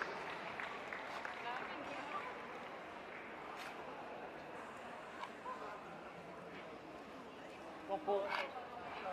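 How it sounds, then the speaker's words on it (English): Faint, distant applause from a crowd at a terrier group dog show ring, a steady patter of clapping lasting several seconds with a few louder bursts toward the end. "round of applause as our deserving winners leave the ring."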